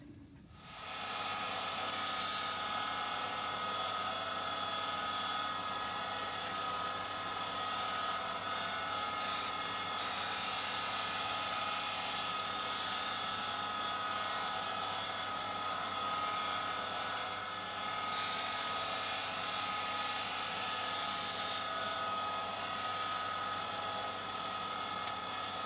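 Bench grinder wheel, freshly dressed with a diamond tool, spinning steadily while chisels and plane blades are sharpened, giving a constant whirring hum with a gritty grinding hiss throughout and no voices.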